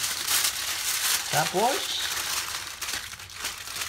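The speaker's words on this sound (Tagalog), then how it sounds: "Takloban, lagyan ng film, ng aluminum foil." Aluminum foil crinkles and rustles close up as it is pressed over a tray of beef ribs, a crisp crackling texture with a short spoken word partway through.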